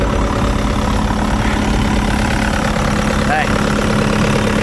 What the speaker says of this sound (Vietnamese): các bác nghe tiếng động cơ